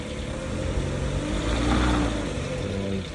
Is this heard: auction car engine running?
yes